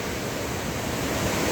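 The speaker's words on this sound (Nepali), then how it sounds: "त्यहाँ माथि छ है झरना।" Mailung waterfall in Rasuwa, Nepal, heard as a steady, loud broadband rush of falling water, continuous and unbroken across the short stretch with no talking.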